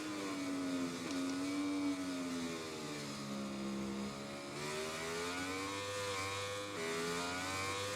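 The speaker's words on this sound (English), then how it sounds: "just revving the engine a bit" A motorcycle engine in the MotoGP 20 racing game drones steadily for several seconds, its pitch sliding up and down as the throttle is blipped through a corner, loud and continuous with no talk.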